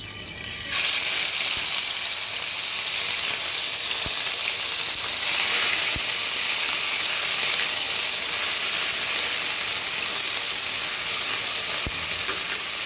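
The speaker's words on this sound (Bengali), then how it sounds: "এর মধ্যে পেঁয়াজ বাটাটা দিয়ে দেব" Onion paste frying in hot oil, a loud, steady close sizzle that starts abruptly and carries on unbroken, with a few faint clicks of a utensil beneath it.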